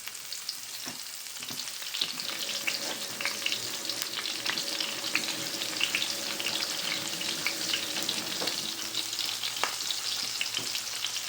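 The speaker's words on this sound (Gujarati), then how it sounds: "ચાલો હવે મૂકી દઈએ આપણે પાપલેટને તળવા માટે." Pomfret fish fries in oil on a low flame, a steady close sizzle with occasional pops and light utensil clicks running throughout.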